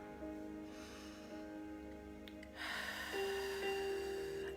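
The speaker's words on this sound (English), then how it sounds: "Inhale" A deep, slow inhale during a guided breathing meditation: a close, airy rush that swells and grows louder partway through, over soft sustained background tones, with no talking.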